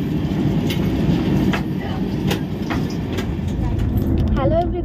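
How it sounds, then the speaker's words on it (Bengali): Passenger train running at good speed, heard from inside a second-class AC coach as a steady rumble with occasional clicks and clacks, a voice briefly audible near the end. "ট্রেন চলছে ভালো স্পিডে।"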